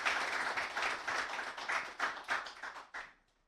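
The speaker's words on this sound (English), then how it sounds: "But first, a very big applause for our panelists." Audience applause for panelists at a tech meetup, a dense wash of many hands clapping steadily, then tapering off and fading near the end.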